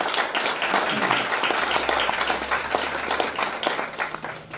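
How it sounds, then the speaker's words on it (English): An audience at a tribute event bursts into steady, dense clapping that fills the room, close and sustained before tapering slightly at the end. "Certainly we can applaud that, right?"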